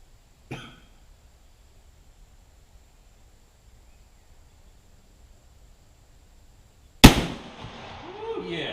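A single loud, booming shot from a Jukar .45 caliber Kentucky muzzleloader rifle fired outdoors, preceded by a brief faint cough-like sound and then long quiet, with a rumbling decay after the blast.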